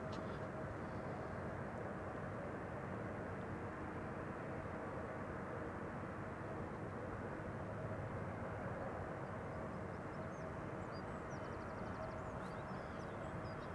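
An Atlas Air Boeing 747 known as the Queen arrives at Amsterdam Schiphol, a steady distant jet rumble sustained throughout, with faint voices in the background.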